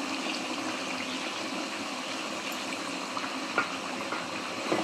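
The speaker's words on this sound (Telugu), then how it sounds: "కరివేపాకు అయితే వేస్తున్నా నేను ఇందులోకి" Curry leaves dropped into hot boiling oil on a cooking pan, a steady, even sizzle and crackle close by, continuous throughout with a few small pops.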